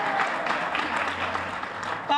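A crowd at a press briefing for peace and healing centers claps steadily, moderately loud, mixed with some voices near the end.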